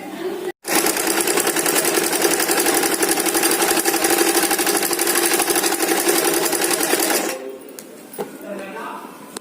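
A sewing machine stitches the side seams of a kurti, running steadily and loudly with a fast mechanical chatter for about seven seconds after a brief start, then stopping, with light handling noise afterward.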